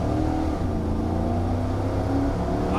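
A Toyota Sequoia engine revs hard under full acceleration, a loud, steady close roar climbing toward the rev limiter with no break and no voices.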